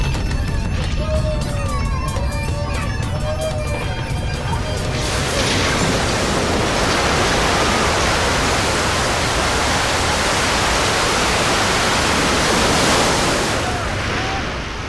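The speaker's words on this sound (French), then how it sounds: "personne n'entendit les vagues qui cognaient contre les portes du château" Loud, continuous roar of crashing waves pounding against castle doors, rising to a dense surging wash after the opening seconds and holding steady, with faint background music at the start.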